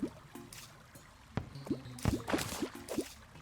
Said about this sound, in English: they've changed the water noise for hook catch